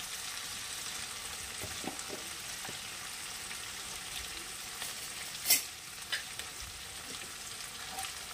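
Ginger paste frying in a pan for a Bengali pointed gourd malaikari, with soft steady sizzling and a few light stirring scrapes, fairly faint and without talk.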